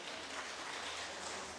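Applause from a congregation at a church ceremony installing synod officials, a steady broadband patter of many hands clapping at once, sustained and fairly even throughout.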